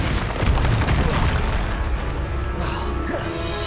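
In Hogwarts Legacy, a Descendo spell slams a target down with a heavy, booming crash, followed by rumbling impact debris and fading magical effects, loud and close.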